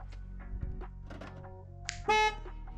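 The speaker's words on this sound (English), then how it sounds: "every time I locked the car, it honked like this." A short, loud car horn honk from a van sounding as it locks, near the end, preceded by faint thumps and quiet background noise.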